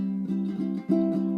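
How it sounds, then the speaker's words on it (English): A few slower, softer ukulele strums ring out, the chords rounded and less crisp, played up close without any talking. "With your thumb, it would sound like this."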